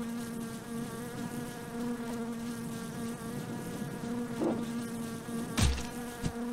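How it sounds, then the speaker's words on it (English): Bees buzz steadily in a video game, a close, droning insect hum with a few sharp knocks and thumps near the end. "I'm getting the bees, man! The bees!"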